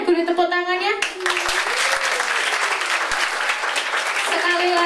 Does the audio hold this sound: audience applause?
yes